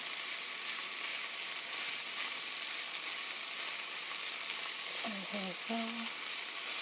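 Beef frying gently in a pan, a dense continuous sizzle holding steady and close throughout, with a brief spoken phrase from a person near the end.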